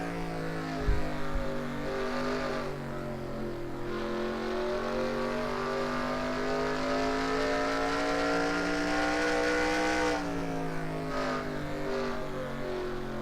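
Onboard engine note of a stock-style race car cutting through a corner on a racing oval, a steady loud droning roar with a shifting pitch around mid-clip and a brief thump near the start, close and continuous.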